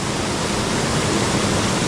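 Large waterfall thundering through a prehistoric gorge, a loud, steady broadband roar of falling water that fills the whole stretch without a break, close by and unvaried.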